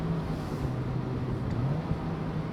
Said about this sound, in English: The engine in the S2000 has much more character.